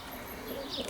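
Roller pigeons coo softly in a loft, faint and in the background, with a few light chirps mixed in.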